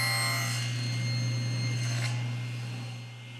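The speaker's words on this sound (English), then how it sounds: "and I'll cut straight through the center." A table saw cuts straight through the center of a wood block, giving a loud, steady motor hum with a broad rasping blade noise that eases off near the end.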